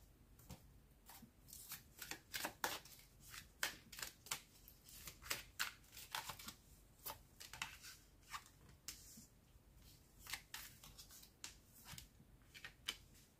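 Tarot cards being shuffled for a reading, close and soft, with repeated riffling bursts and rhythmic slaps of the deck, with no voices.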